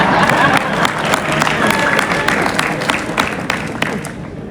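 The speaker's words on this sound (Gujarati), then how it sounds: "આપણે તાળી પાડીને સન્માન કરશું" A large audience at a BAPS Swaminarayan religious discourse in Ahmedabad claps in applause, a thick, steady roar of many hands close by with crowd murmur underneath, thinning slightly toward the end.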